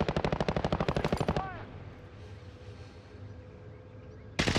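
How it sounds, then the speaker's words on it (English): A light machine gun fires in a video game: a rapid, steady burst of loud close shots for over a second, then a quieter lull with low rumble, and another burst begins right at the end. "He's firing fast, bro. Probably an LMG."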